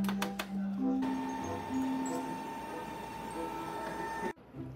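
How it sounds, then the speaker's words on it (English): A laser printer initializes after a new toner cartridge goes in, with steady mechanical whirring and shifting motor tones for several seconds that stop abruptly near the end. "Close the door and wait for the printer to initialize the check."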